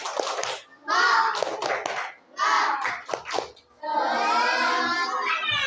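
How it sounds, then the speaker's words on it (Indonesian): Fifth-grade primary schoolchildren in a classroom do a rhythmic spirit clap, loud group chanting bursts broken by short pauses and mixed with clapping. "Tepuk semangat."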